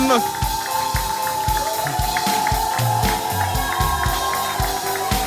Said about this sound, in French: Est-ce que nous pouvons applaudir?